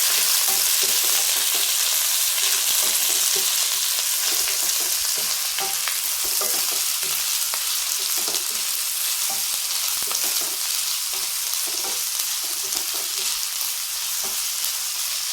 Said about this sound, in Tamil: வெங்காயம் போட்டுக்கலாம் இது கொஞ்சம் வதக்கணும் கொஞ்சம் நேரம் வதக்கணும்